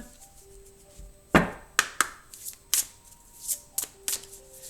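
A deck of tarot cards is cut and handled: a sharp riffle-like burst followed by a series of crisp, close card snaps and taps in an uneven rhythm, heard alone in a quiet room.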